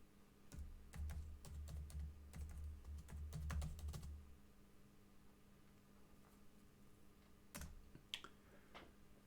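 Typing on a computer keyboard comes through as a quick, irregular burst of clicks over the first four seconds. A few scattered keystrokes follow near the end against a quiet, steady background hum.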